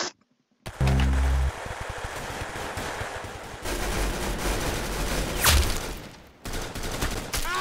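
Rapid, sustained weapon fire from the Roblox game Arsenal: dense automatic bursts rattle almost continuously, with a sharp louder report near the middle and a brief pause before the shooting resumes.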